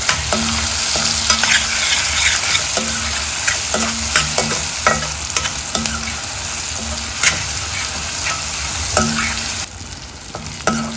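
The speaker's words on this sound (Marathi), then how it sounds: "अशा प्रकारे जिरा थोडासा भाजून घेते, जास्त नाही आपण घेतला" Cumin seeds roast in a pan, giving a steady close sizzle throughout with repeated scraping clicks as they are stirred.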